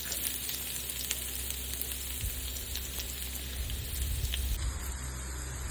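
Sliced onions with curry leaves sizzle and crackle in hot oil in a pan, a steady close frying hiss with faint stirring scrapes underneath.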